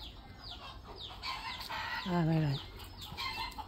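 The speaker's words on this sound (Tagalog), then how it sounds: "Itong manok matutulog na lang ingay pa nila, no?" Farm chickens clucking with a rooster crowing once in the middle, close and fairly soft, with a voice speaking briefly.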